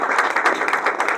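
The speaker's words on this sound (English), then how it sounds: "big round of applause for Jocelyn." Dense applause from an audience at a community education council meeting honoring an essay contest winner, a steady wash of many hands clapping together, fairly loud and continuous.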